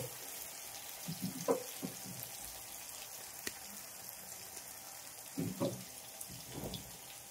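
A bay leaf drops into hot oil for a bean-ball curry, giving a faint, steady sizzle with a few soft clatters of the pan, quiet throughout with no voices.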